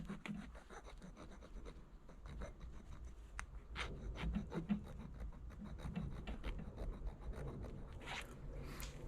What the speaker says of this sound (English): So what I do is I take a file, just kind of smooth that out.